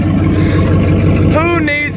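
A 1979 Ford F-350 flatbed truck engine runs with no exhaust, a loud, steady, rough drone filling the whole stretch, close by, with a voice speaking over it near the end.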